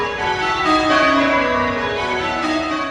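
Church bells at Dunedin's First Church ring out in a complex peal, a dense, continuous wash of overlapping metallic tones with no voices, sounding fairly close and steady throughout.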